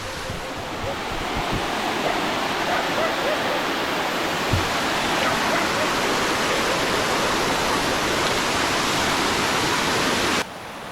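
Water rushes through a full channel in a quiet Kerala hill village, a loud, steady broadband roar that continues without break and cuts off abruptly near the end.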